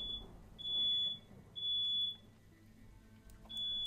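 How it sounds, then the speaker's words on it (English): Smoke-alarm-style fire alarm in the video game Carrion, sounding repeated high shrill beeps in long bursts over a low rumbling game background, fairly quiet overall. "The fire alarm's going off."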